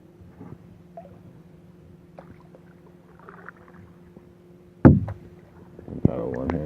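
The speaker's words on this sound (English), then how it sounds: "Can paddle one-handed. Doesn't work that well though." A canoe paddled one-handed on a lake during a solo portage trip, with soft, sparse dips and water swishes, then a sharp knock of paddle against the hull and a burst of louder splashing near the end.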